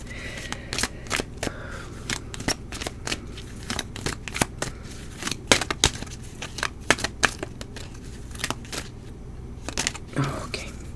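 Tarot cards are shuffled close by in a quiet room, giving a long run of crisp, rapid snaps and riffles in uneven bursts with brief pauses between them.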